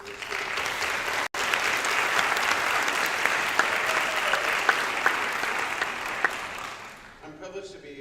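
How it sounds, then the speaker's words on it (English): Steady applause fills an awards ceremony hall, a dense crowd clapping that holds evenly before tapering off, with a voice starting to speak at the very end. "I would offer a round of applause to the parents for supporting your students."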